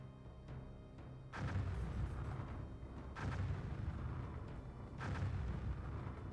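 Mortars fire in Cossacks: European Wars, three heavy booming blasts at roughly two-second intervals, each followed by a rumbling decay.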